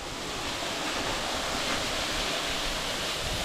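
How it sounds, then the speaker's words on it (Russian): A waterfall at Matlas pours in free fall from an overhanging rock cliff, producing a steady, dense roar of rushing water that fills the scene without pause or voices. "И вода в свободном падении."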